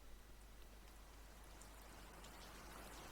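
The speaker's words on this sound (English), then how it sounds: "Oh, started raining again." Rain falling outdoors at night in San Francisco, a soft, even patter that stays faint and steady throughout, heard with no voices over it.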